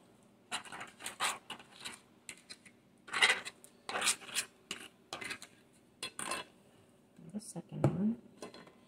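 Avocado spread across a crispy tostada shell, giving short scraping, crackling strokes in bursts with pauses between, close and quiet, with a voice talking at times.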